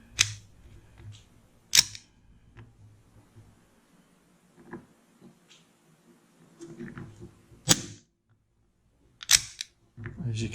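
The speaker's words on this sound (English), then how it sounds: "Just going to show the blowback, and again there is nothing in the gun." An empty ASG CZ Shadow 2 CO2 replica air pistol fires with blowback, giving five or six sharp, close cracks spaced a second or two apart, with faint handling noise and a low background hum between shots.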